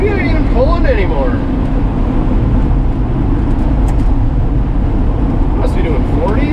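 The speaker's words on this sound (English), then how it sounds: "Just whisper quiet exhaust. The 300 does pull pretty good at the low RPMs." A 1966 Ford F100 farm truck with a 300 six-cylinder engine and quiet exhaust cruising at low RPM, a steady loud rumble of engine and road noise throughout, with someone talking over it.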